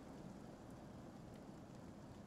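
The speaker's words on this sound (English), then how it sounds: "That rain is loud." Rain in the horror video game Fears to Fathom, a dense, steady downpour with a low thunder rumble underneath, constant and quiet with no voices.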